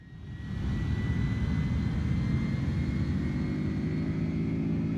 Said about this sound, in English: But you hear the engine spooling up.